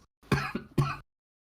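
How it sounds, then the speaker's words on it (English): A person coughs and clears their throat indoors: a short quiet rasp followed by two close, harsh coughs, loud and alone with no talk. "Excuse the coughing."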